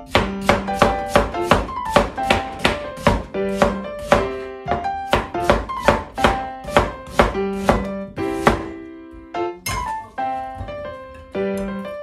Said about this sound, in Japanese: じゃあ玉ねぎ切っていきます